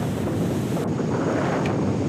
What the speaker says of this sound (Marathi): पश्चिम बंगालमधून मिदनापूर इथली खवळलेल्या समुद्राची ही दृश्य मिदनापूरमधली पाहायला मिळतात